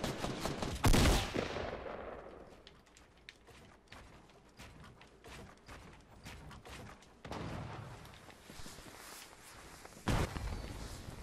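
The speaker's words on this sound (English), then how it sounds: "What the hell is he shooting at me?" Gunfire in the Fortnite battle royale, a loud close burst at the start followed by scattered quieter shots and distant rattling fire, then another sharp nearby burst near the end.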